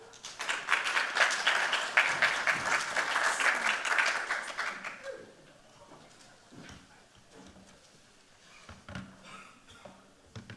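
An audience at a startup pitch showcase applauds loudly for about five seconds, a dense wash of clapping that then thins into scattered claps and room noise.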